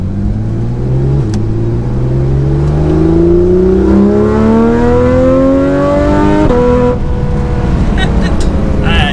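A Porsche 911 GT3 RS engine roars loudly and climbs steadily in pitch as it revs up through the gears, close and sustained, with a shift midway.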